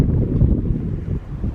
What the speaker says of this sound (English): It's pretty windy over here